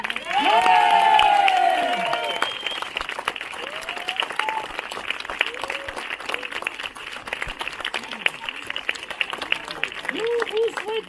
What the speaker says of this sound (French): la famille des Marous vous remercie d'être venus si nombreux nous applaudir